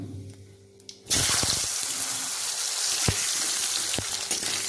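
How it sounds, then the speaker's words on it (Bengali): Potatoes hit hot oil tempered with five-spice for shukto, bursting into a sudden loud, dense sizzle that holds steady with a few scrape clicks, following a quieter stretch of background hum. "আলুটা দিয়ে আমি কিছুক্ষণ ভেজে নেব"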